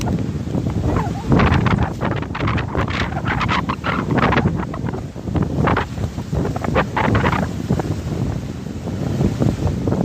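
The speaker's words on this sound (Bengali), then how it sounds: "অনেক বাতাস" Strong wind near a village riverbank buffets the microphone in heavy, continuous rushing gusts that rise and fall, with no voices present.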